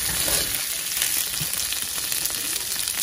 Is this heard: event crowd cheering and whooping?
no